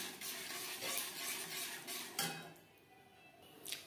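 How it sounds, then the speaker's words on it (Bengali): A spoon scrapes and stirs through milk and tomato gravy for paneer and broccoli in a pan, close and clattery with a faint simmer underneath, the strokes easing off then returning at the end. "এইভাবে বেশ ভালো করে মিক্সড করে দেব।"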